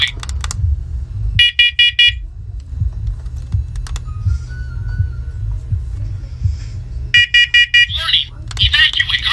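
A fourth-generation talking smoke and carbon monoxide alarm sounds loud, rapid bursts of shrill beeps, then a synthesized voice speaks a warning, and another burst of beeps follows near the end.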